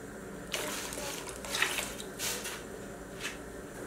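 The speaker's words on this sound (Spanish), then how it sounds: "Le echamos otro poquito de agua." Water is poured into a dry pan while cooking chiles rellenos, giving a soft splashing and trickling in a few brief bursts, fairly quiet and with no talking.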